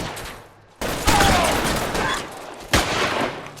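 Bursts of gunfire in the L.A. Noire video game during a police shootout, loud dense volleys with a sharp new burst near the end.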